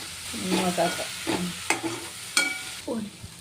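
Onion and mushroom with salt stirred and fried in a pan: a spoon scrapes and stirs in repeated strokes over a steady close sizzle, with a few sharper clacks against the pan.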